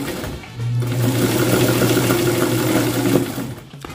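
Domestic sewing machine running a narrow zigzag stitch for an open hem, a loud, close, steady motor whir with fast needle chatter for about three seconds, then stopping.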